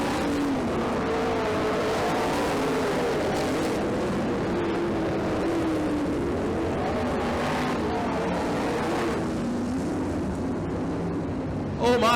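Race cars roar around an oval track on the final lap, engines whining and shifting pitch as they pass, with a commentator talking over the continuous motor noise.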